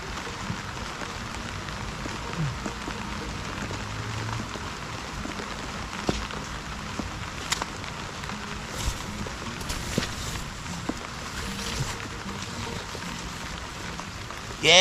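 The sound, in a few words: heavy typhoon rain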